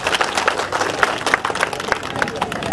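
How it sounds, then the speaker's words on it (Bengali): Audience at a Delhi Lok Sabha election public-opinion event breaks into applause, a dense patter of many hands clapping with crowd murmur, while someone talks over it. "এটার জন্য একটা জোরদার হাততালি দিন সবাই।"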